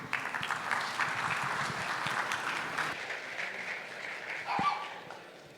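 Sustained applause from a conference audience welcoming an IBM quantum computing speaker to the stage: dense, steady clapping that fills the hall throughout, swelling briefly near the end.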